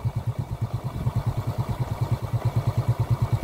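Close by, a repaired Suzuki Smash 115 motorcycle engine idles steadily with even, rhythmic low pulses and no clatter.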